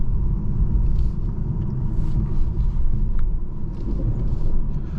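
A 2023 BMW 530i rolls along in comfort mode toward a highway, its steady low cabin rumble of engine and road noise continuous and even throughout.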